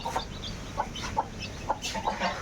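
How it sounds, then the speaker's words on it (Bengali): Small, high chirps of chicks sound in quick scattered bursts, fairly faint, over a soft background hum with no talking. "চোদ্দোটি মুরগির বাচ্চা ফুটেছে অনেক কিউট কিউট"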